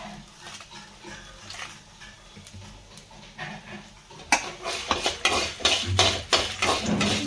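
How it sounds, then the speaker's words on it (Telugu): Coriander seeds and dried red chillies dry-roasting in a pan on low heat: soft scraping and rattling, growing louder and busier halfway through with repeated clinking stirs against the metal. "మంట తగ్గించుకొని సన్నగా వేయించుకొని మరగొట్టుకుని, ధనియాలు తినే పచ్చని పేలు బాగా ఎర్రగా అయిపోయి దీంట్లో ఎండుమిర్చి వేసుకొస్తాను"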